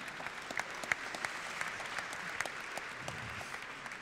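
Applause at an architecture and urban awards ceremony in Lyon, heard as fairly faint, steady clapping from a seated audience, with a few sharper claps standing out over the patter.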